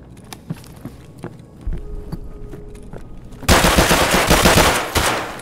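Video game gunfire in Escape From Tarkov: scattered single shots at first, then a sustained loud burst of automatic fire filling the last two seconds, no talking.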